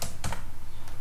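Keys on a computer keyboard being tapped to type a web address, with a few quick, close clicks over a steady low hum and no talking.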